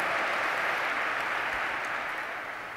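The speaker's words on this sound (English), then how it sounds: "can we have a round of applause for all the breakout session speakers as well?" Audience applause at a conference keynote, a broad continuous roar of many hands clapping that fades slightly toward the end.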